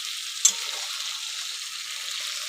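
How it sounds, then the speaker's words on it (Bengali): Eggplant, potatoes and spices being stirred in a hot pan for a hilsa and potato curry, giving a steady close sizzle with one sharp scrape of the spoon near the start and no talking. "তো মশলার সাথে বেগুনটা ভালো করে মিশিয়ে নিয়েছি।"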